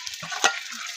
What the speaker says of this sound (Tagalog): Haluin muna natin itong sardinas at nilagay ko na